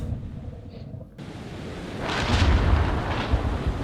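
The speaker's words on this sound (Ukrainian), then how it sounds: "Грім гримить." Thunder rumbles in the horror video game Man of Medan, a low rolling boom that swells after a brief quiet moment and lingers as a loud, steady roar.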